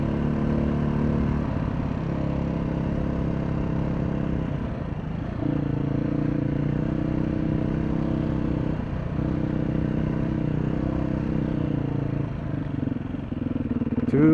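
Two big Beta Thumper 4-stroke dirt bikes running nearby, a steady low throbbing engine drone with occasional revs and shifts in pitch, continuous for the whole stretch.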